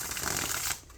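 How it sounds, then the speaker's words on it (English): A single quick riffle-shuffle of a tarot card deck, a close, crisp flutter of cards lasting under a second before trailing off. "Third shuffle."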